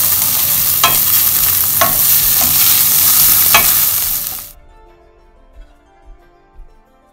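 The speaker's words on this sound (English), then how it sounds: "So fry nicely until the vegetables are a bit soft" Vegetables and sambal stir-frying for nasi goreng, a loud dense sizzle with sharp scraping stirs for about four and a half seconds, then cutting off to near silence with a few faint clinks.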